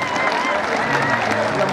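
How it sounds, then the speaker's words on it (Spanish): Steady crowd noise fills a packed bullfighting ring, with clapping and cheering rising together at a constant level beneath an announcer's voice. "Aplauso para el señor ganadero."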